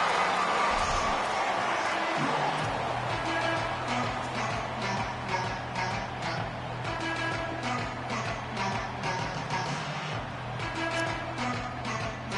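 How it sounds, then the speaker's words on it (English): Stadium crowd noise from a home crowd in a PS5 football game (Blitz), a steady loud roar of cheering that stays constant throughout with no break. "Home crowd behind us."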